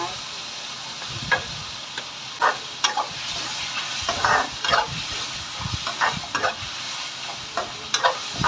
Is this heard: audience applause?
no